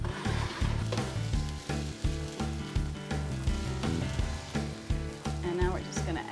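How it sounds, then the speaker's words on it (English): Green beans and tomatoes sizzle steadily in a hot pan under loud background music, with occasional stirring scrapes mixed in. "Can you hear that sizzle?"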